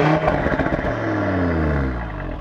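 Audi RS3 pre-OPF five-cylinder engine, a short burst of revs that falls into a low, throaty burble with crackling pops, heard close and fairly loud with no talking.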